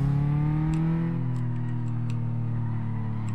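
A car engine accelerating in Car Mechanic Simulator 2014, a loud, steady drone with a falling pitch sweep, harmonics bending as revs shift, continuous throughout without any talking.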